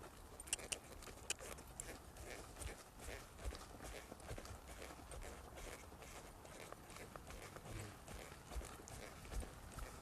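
A horse's hooves working a mechanical cow in an arena, with a continuous run of fairly faint clip-clop footfalls, stopping and backing, heard over roughly ten seconds of steady background.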